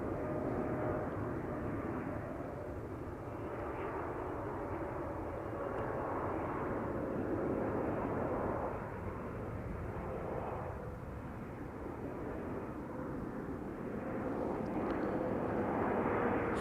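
A Qatar Airways A350 approaching Amsterdam Schiphol Airport, a steady distant roar of jet engines that holds for a long stretch at moderate loudness.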